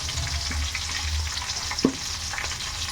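Chopped green chillies frying over a low flame for vegetable fried rice, a steady close sizzle with a few soft stirring scrapes and one sharper tap.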